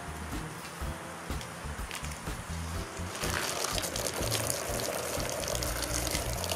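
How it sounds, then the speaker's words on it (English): Water from a hose runs steadily as it rinses soap off truck mud flaps, a continuous splashing wash that grows louder and fuller partway through. "And you just wash the soap off."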